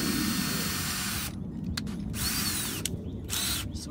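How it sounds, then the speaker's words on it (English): A power drill running at low speed bores a pilot hole into a Wicker bill spoiler on a 2018 Dodge Charger Scat Pack, giving a close, steady whirring grind with brief dips and pauses. "I put my drill on low speed so I'm not running through there real quick."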